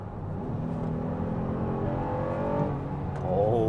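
The V6 engine of a 2025 Honda Odyssey minivan accelerates hard, a steady rising engine hum heard from inside the cabin that climbs in pitch toward the end, with no talk.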